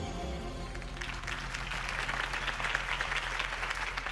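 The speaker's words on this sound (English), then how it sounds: "could have heard that applause" Crowd applause from the Batman Telltale game after a campaign rally speech, a dense, moderately faint wash of clapping that builds and holds for a few seconds.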